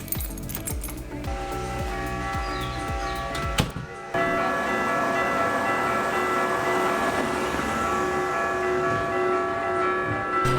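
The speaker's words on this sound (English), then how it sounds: "we just witnessed the bells of the church happening right behind us" Church bells ring on a Sunday morning in Saint Lucia, close and loud. Rapid repeated strikes come first, then a brief gap and a long resonant peal with lingering ringing tones and no speech.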